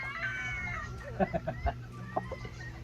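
A rooster gives a few short, close clucks in a quick cluster over a low steady background hum.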